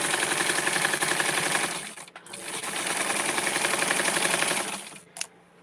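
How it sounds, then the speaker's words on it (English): A sewing machine stitches a gingham Barbie doll garment in two fast, steady runs, a close rattling whir that pauses briefly in the middle and stops near the end with a small clunk. "Just sew this to keep it open."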